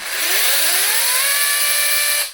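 A GTM CS18/127BL cordless chainsaw whirs up to speed and holds a steady, loud high-pitched motor whine for about two seconds, then cuts off.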